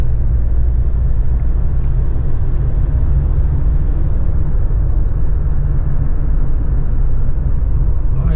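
A 2009 Toyota Hilux with a 2.5-litre diesel engine and knobby tyres, driven over rough off-road terrain. Heard from inside the cab as a loud, steady low rumble of engine and road noise, with no talking.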